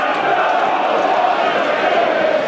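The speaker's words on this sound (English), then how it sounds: "the crowd singing, "You don't know what you're doing."" A football crowd at a Bath City National League match against Dorking Wanderers chants together in a steady, massed roar of voices filling the ground with sound, loud and continuous.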